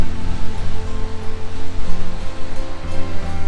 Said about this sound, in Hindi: वो नीचे एक वाटरफॉल है या वहाँ पे भी एक वाटरफॉल है